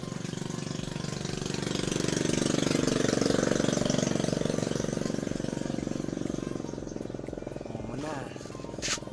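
A motorcycle engine idles close by with a steady low, even rumble that swells slightly mid-way and holds to the end. A brief voice-like sound rises near the finish.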